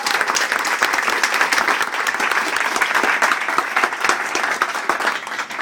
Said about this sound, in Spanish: un aplauso para ellos porque se han pasado.